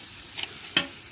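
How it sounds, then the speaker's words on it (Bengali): Rice and lentils for khichdi sautéed in a pot at a picnic, a soft background sizzle broken by two brief scraping strokes of the stirring spoon, the second louder. "চাল কষানো হচ্ছে গাইস, খিচুড়িটা কষানো হচ্ছে"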